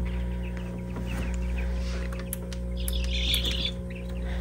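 Baby Silkie chicks in a brooder give scattered high, thin peeps over a constant low electrical hum, with a brief cluster of louder chirps near the end.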